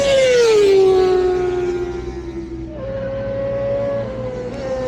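A racing motorbike lapping a wet track during British Superbike testing in the rain, its engine note droning steadily and shifting pitch as it passes at moderate distance, with no talk.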